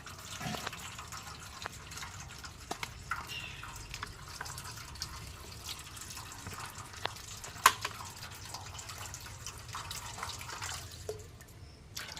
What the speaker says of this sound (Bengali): এখন আমি মাংসটা আমি ধুয়ে নেব ভালো করে